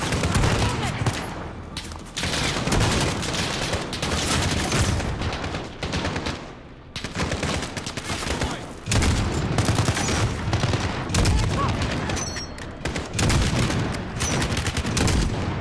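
Sustained gunfire from Call of Duty: Modern Warfare (2019) on the Highway of Death mission: dense, loud bursts and rattling volleys fill nearly the whole stretch, with a couple of brief lulls and occasional booms.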